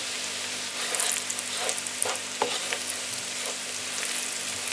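Steady sizzling and crackling of onions and umami paste frying in a hot pan, with occasional stirring scrapes and bubbling pops.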